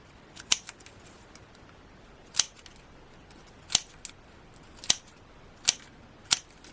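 Scissors snipping card petals for cardmaking: six sharp, crisp cuts spaced roughly a second apart, close and clear against a quiet room.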